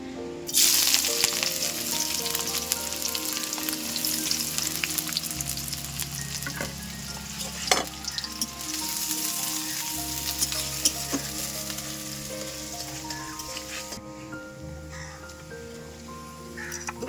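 Onions frying in hot oil for tempering while cooking Nawabi chicken, a continuous loud sizzle with occasional stirring scrapes, close and steady throughout with no talking.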